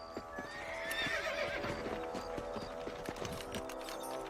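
Horses in the Red Dead Redemption video game neigh with a rising whinny while hooves clip-clop in a steady rhythm, close and moderately loud, with no talking.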